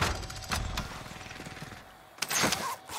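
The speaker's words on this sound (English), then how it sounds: "We hear gunshots." Gunfire in the video game Call of Duty Warzone: a few sharp, sudden bursts, some close together, over a noisy, busy game background.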